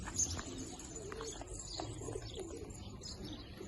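Soft pigeon cooing repeats against a quiet outdoor background, with a few faint chirps mixed in.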